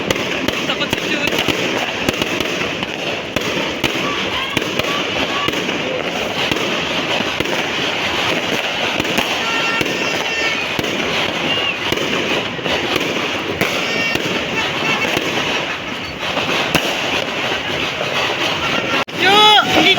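New Year fireworks and firecrackers burst continuously in a dense, loud crackling barrage that runs throughout, with people talking and a dog nearby during the celebration.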